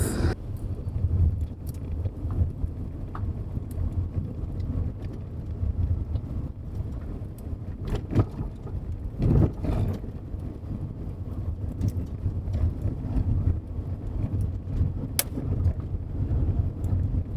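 A car driving a long, muddy dirt road, a continuous low rumbling road and engine noise with occasional knocks and rattles, steady and close throughout without speech.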